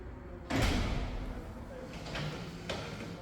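A secured pivot door with an electromagnetic locking plate swings shut with a firm thud, followed by fainter clicks of the lock engaging, close by in a quiet room.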